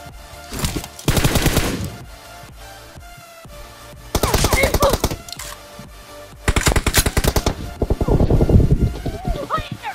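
Automatic gunfire in the mobile battle-royale game PUBG Mobile, rapid loud bursts of machine-gun shots in several volleys separated by brief quieter gaps, with a voice occasionally talking underneath.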